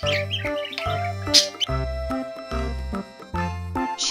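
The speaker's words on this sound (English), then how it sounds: "Parrot, 앵무새." A parrot gives several quick, high chirps and tweets, scattered over bouncy, rhythmic background music.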